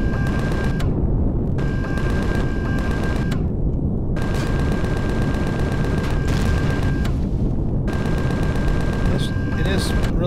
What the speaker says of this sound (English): It is really hard to do this with Gatling guns, though.